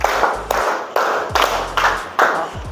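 Students in a class clap in unison on a counted beat, six crisp group claps evenly spaced about every half second, near and loud with no talking.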